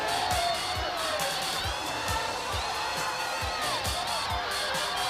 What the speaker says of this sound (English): Accolades from the crowd and his fellow competitors